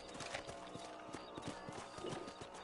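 Horse hooves clip-clopping at a steady walking rhythm in the Western video game Red Dead Redemption, close and continuous, with a brief whinny-like sound.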